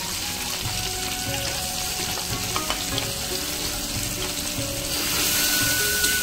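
Tomato and spice paste for a vegetarian elephant-foot yam curry fries in a pan, a dense, constant close-up sizzle that swells slightly louder toward the end, with a faint clink or two.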